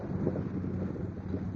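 Strong wind buffeting the microphone on a boat out on the water near Southport and Bald Head Island, a steady low roar and rumble with no speech.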